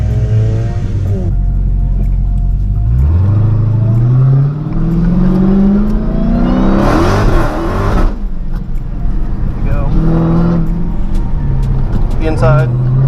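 A Dodge Challenger Hellcat drives an autocross course, its engine loud and close, revving up and easing off repeatedly through the slalom, with people talking over it.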